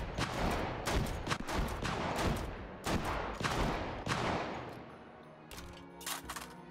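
Guns fire in the VR game Hot Dogs, Horseshoes & Hand Grenades on an HTC Vive: loud, rapid booming shots in quick repeated volleys, close up, followed by a few scattered mechanical clicks and clatters.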